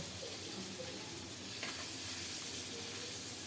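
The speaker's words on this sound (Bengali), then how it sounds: "সরিষার তেল গরম হলে শিং মাছগুলোতে লবণ হলুদ মাখিয়ে ছেড়ে দিলাম এখন লাল লাল করে ভেজে নেব" Singhi catfish coated in salt and turmeric frying in hot mustard oil, with a soft, continuous sizzle and hiss heard close but at low volume, and no talking.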